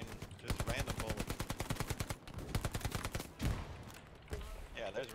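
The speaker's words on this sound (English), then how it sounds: "There's a lot of bullets flying. Just random bullets." Random gunfire in the World War II shooter Hell Let Loose: rapid bursts of rifle and machine-gun fire rattle in dense, fairly close volleys, then give way to sparser distant shots and battlefield noise.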